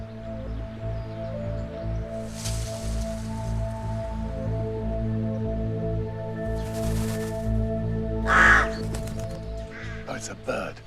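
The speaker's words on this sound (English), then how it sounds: "Oh, it's a bird." A crow caws a few times from the undergrowth in an outdoor natural setting, sharp harsh calls standing out over a steady low hum and faint rustling.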